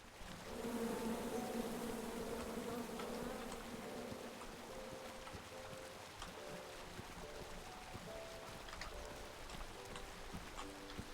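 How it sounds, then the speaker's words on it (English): Angry bees buzz in a swarm from a chopped-down tree in the video game King's Quest (2015), a dense continuous droning hum that swells early and then holds steady, with no talk over it. "you chop down the tree full of angry bees?"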